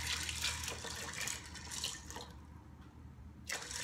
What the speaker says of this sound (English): I'm going to cover them generously with filtered water